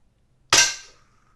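A single sharp crack from a Daisy Powerline 901 air gun, loud and close, with a short decaying tail in an otherwise quiet moment.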